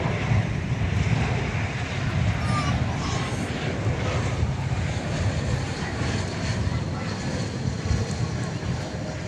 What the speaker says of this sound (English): It's American Flight 530, an Airbus A320 arriving from Raleigh-Durham in North Carolina